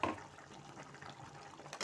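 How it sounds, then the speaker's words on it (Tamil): Coconut water is poured into a simmering tamarind curry (puli kuzhambu), making a steady, moderately close splashing trickle that ends in a brief louder burst. "இதோட தேங்காய் தண்ணியும் இருக்குது, அதையும் நான் சேர்த்துக்கிறேன்."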